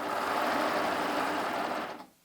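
Coverstitch sewing machine stitching the hem of a fabric scarf, a steady close rapid whirr that runs evenly, then stops abruptly near the end, with no voices.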